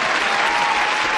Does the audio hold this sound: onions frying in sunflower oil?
no